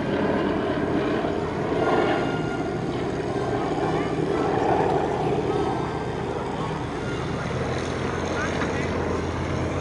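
Yak-52 propeller aircraft flying a formation display at an airshow, giving a steady continuous engine drone throughout with a commentator talking over it.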